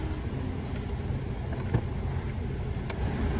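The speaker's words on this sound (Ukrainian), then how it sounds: "Так, кондиціонер працює" A car's air conditioner runs with a faint, steady blowing hiss and a soft, even hum, unbroken for a few seconds.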